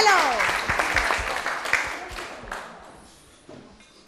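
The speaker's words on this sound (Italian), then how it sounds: "Allora facciamo un grosso applauso a Giulio." Applause from an audience, dense at first and gradually thinning and fading over a few seconds.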